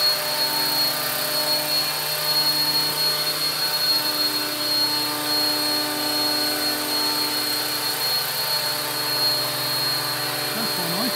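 A 500-size model Wessex HU 5 helicopter flies and hovers on its maiden flight, giving a steady whine with a high rotor tone that holds throughout at close range.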